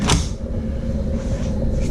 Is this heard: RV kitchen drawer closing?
yes